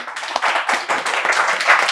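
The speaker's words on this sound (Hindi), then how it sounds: "तो एक बार इनके लिए जोरदार ताली।" A studio audience at an AC inverter PCB repair training institute claps in a dense, continuous round of applause lasting the full two seconds, with no talk over it.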